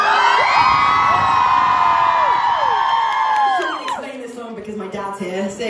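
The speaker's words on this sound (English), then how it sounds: "if you guys could scream like you know it" A concert crowd at the Melkweg screams and cheers loudly, with high sustained shrieks and whoops merging into a dense roar that drops off after about four seconds into scattered voices and chatter.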